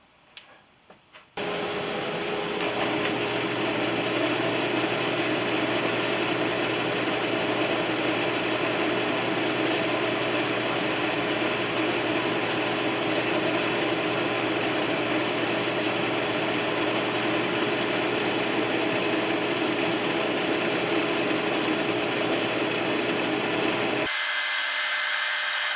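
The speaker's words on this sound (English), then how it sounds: "We've got some sanding to do" A power sander whirs steadily and loudly against a cherry wood box for over twenty seconds, starting abruptly and cutting off near the end.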